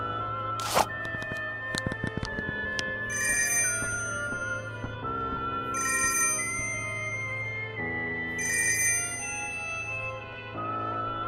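Telephone ringing after a number is dialed: a short burst of dialing tones and clicks, then repeated electronic ring bursts in a steady rhythm over a low hum, with no talking.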